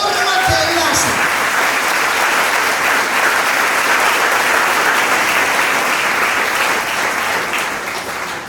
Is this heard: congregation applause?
yes